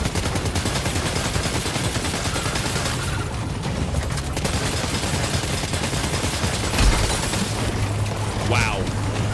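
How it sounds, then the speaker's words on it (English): Grenade pistol firing in the video game Death Stranding 2, loud bursts of gunfire and booms layered in dense game noise, with a sharp hit near the end, all without talk. "Grenade pistol."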